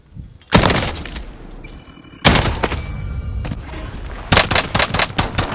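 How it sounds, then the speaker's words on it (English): Bursts of automatic gunfire in a shooter video game, loud and close, in three separate volleys with dense rapid shots. "Taking direct fire!"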